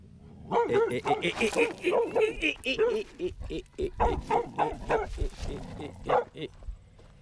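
A Border Collie barks and yelps excitedly in quick bursts at another dog by the road in the countryside, mixed with a person talking nearby.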